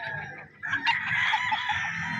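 On a gamefowl farm, White Kelso roosters crow after a brief dip, a loud, drawn-out call joined by overlapping crows and clucks close by, with no voices.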